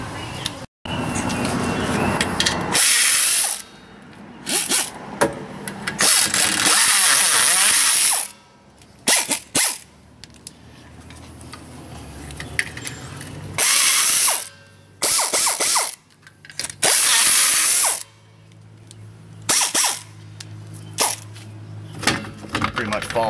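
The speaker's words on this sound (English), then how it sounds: "I'm gonna grab an air ratchet." An air ratchet spins off bolts from an electric trailer brake assembly in about seven loud, close bursts of rattling, pneumatic buzzing, separated by short pauses.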